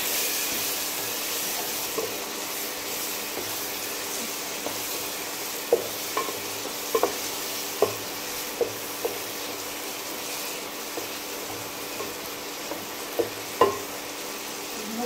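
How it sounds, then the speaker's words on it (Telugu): Mutton masala and garam masala stirred into mutton liver frying in a pan: a steady sizzle with scattered sharp scrapes and clicks of a spoon against the pan, up close and continuous, with no talking. "మటన్ మసాలా, అయితే కొంచెం కలుపుకుందాం."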